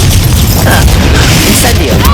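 A Confringo spell blast in the game Hogwarts Legacy, a dense, loud booming burst that fills the short clip with a sustained rumble and crackle.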